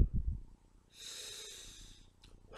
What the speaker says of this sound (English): So literally just take a big breath in and let it out.